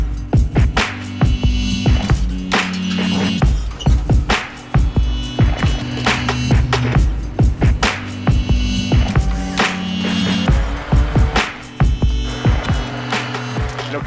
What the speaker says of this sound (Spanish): Después de un hervorcito los voy a licuar.